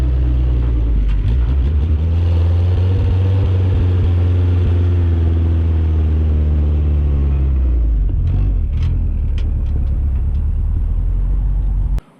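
A Willys CJ-2A Jeep engine labors up a hill, a loud close low rumble whose pitch rises and swells under load, then settles into a steadier drone with a few clunks before cutting off abruptly.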